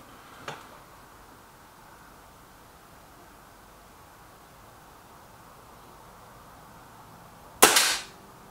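A Kral Puncher Maxi air rifle fires twice, a faint distant crack early on, then a loud, sharp close shot with a brief ringing tail, quiet in between.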